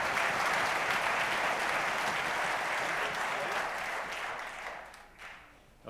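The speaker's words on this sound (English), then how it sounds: "Let's just encourage them with a big round of applause for all they've done." Audience applause for orchestra students at an all-county school concert, a dense steady wash of clapping from a large crowd that fades out over the final second.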